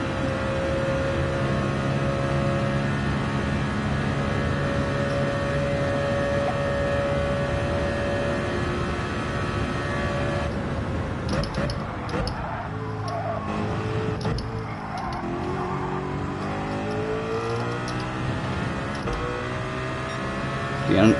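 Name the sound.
race car engine revving in Gran Turismo 7 video game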